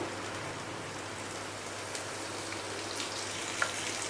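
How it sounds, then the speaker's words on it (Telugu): Cumin seeds fry in hot oil as a tempering for a bottle gourd curry, making a soft, even crackling sizzle that runs unbroken with a few tiny pops, fairly faint and with no talk. "తర్వాత జీలకర్ర ఇవి వేసుకుని కొద్దిగా ఫ్రై అవనివ్వాలండి"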